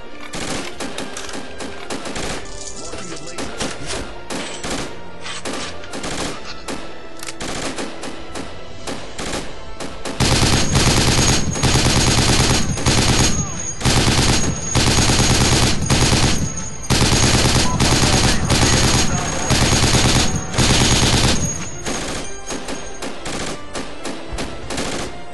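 Sustained machine gun fire in the tactical shooter game Project Reality, long rapid bursts of close, loud shots that swell to a dense, heavier barrage midway before easing back to steadier firing.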